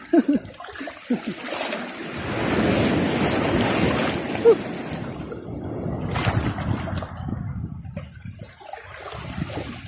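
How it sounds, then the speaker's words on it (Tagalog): Ocean waves wash and surge steadily, rising to a broad roar midway, with occasional splashes near the microphone. "May alon."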